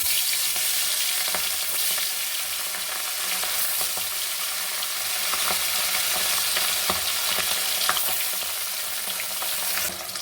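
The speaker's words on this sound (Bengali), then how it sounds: "এই দেখুন মাছগুলো হালকা ভেজে নিলাম" Hilsa fish frying lightly in mustard oil in a kadai sizzles with a loud, dense crackle that goes on without a break. Occasional spatters and stirring sounds rise above it, close up, and there is no speech.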